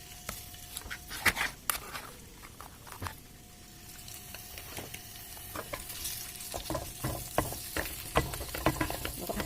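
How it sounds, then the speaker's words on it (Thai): Minced pork sizzles in a little oil in a wok, with steady frying hiss under repeated scraping and clattering stirring strokes, close and fairly quiet, with no talking. "หมูสับของเรานะคะ เดี๋ยวเราจะเอาลงไปผัดเขานะคะ"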